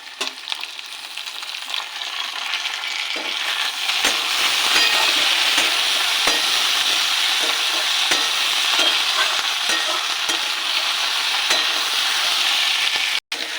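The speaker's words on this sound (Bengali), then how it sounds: "এবার দিয়ে দেবো টমেটো কুচি।" Chopped tomato frying in hot oil for a dal chili curry, a steady close sizzle with occasional stirring scrapes, growing slightly louder midway and continuing alone without talk.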